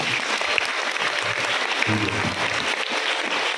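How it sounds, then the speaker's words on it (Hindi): A church audience at a parish farewell for two priests claps loudly and continuously, a dense round of applause from many hands throughout. "तो बहुत सब दोनों फादरों के लिए जोरदार एक बार ताली बजा देंगे।"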